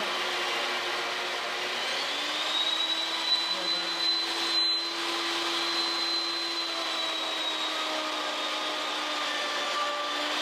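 A woodworking power tool for drawer making hums steadily at low speed, a continuous even whir held close and alone throughout with no talking.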